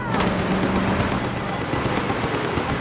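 Gunfire in the video game Just Cause 3, dense rapid bursts of shots rattling continuously in a loud barrage, with a sharp crack near the start.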